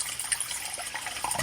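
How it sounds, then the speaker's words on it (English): Water pours from a pitcher into a glass in a brief, soft trickle with splashy, bubbling texture, fairly quiet and without any talk. "Lift that pitcher of that water. Simply pour some water."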